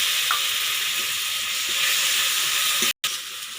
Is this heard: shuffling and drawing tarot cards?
no